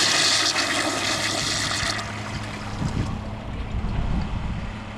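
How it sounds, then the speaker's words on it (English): A 1998 Gerber UltraFlush toilet flushes with a dry bowl, giving a loud, close, pressurized rushing whoosh for about two seconds before it eases into a steadier running rumble of water. "Here's a flush with a dry bowl."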